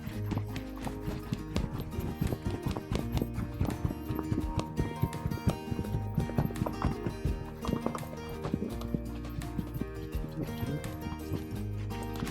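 Hoofbeats of a horse in a riding session moving from trot toward a canter, a quick steady clip-clop rhythm heard close alongside creaking tack and a low background rumble.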